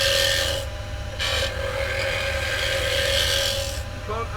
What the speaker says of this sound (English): I'm going to come in with the spindle gouge so I can sort out the bottom and put the foot on